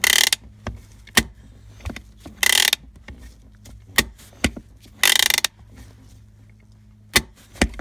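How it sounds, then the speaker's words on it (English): On an Audi B5 A4 Quattro the parking brake handle is pulled up and ratchets, giving three clear buzzing clicks close by among sharp clunks and taps, over a low steady hum. "we're gonna lift up the e-brake handle 3 times"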